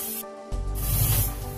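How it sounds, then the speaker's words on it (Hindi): Garam masala and other ground spices sizzle in hot oil in a pan, a short burst of close, steady hissing frying. "ये गरम मसाला, मसाले को अच्छी तरह से भूनेंगे।"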